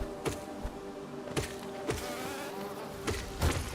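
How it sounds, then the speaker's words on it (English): Cannon bee enemies in the Hollow Knight video game give off a steady insect-like buzz, broken by a few sharp thumps, with no talk over it. "This room, I think, has a couple of cannon bees in it."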